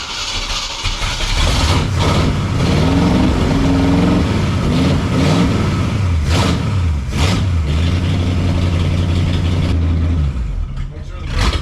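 A Jeep that has sat unused for over a year runs with a loud, rough engine note, revving and settling unevenly close by, with people talking over it.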